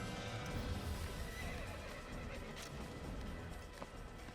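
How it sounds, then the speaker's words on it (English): An upset horse in Assassin's Creed lets out a loud, shaky whinny, with hoof clip-clops and game ambience around it and a brief sharp clatter near the end. "That horse is very upset that I killed someone near them."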